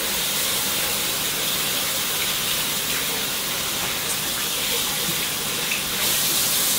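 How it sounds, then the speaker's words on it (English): Tap water pours steadily in a constant, close hiss, with faint splashes as it runs over raw chicken in the sink. "just hit it with some cool water"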